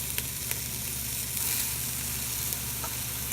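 Pickled pork sizzles loudly and steadily in a hot pan while browning for Creole red beans and rice. The dense frying hiss is close up and continuous, with a few small pops and no talk.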